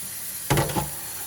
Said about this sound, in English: So I rinse them a couple more times, make sure you get a clean bites every time.